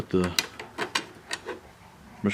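Small metal clicks and rattles of a nut and bolt being finger-tightened onto a motorcycle brake-side bracket during a Kawasaki KLR dash install, a handful of brief close ticks spread across a couple of seconds.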